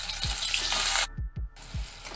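Bitter gourd frying in hot oil in a home kitchen, giving a steady bright sizzle broken by a brief drop-out, with a few soft low thumps underneath.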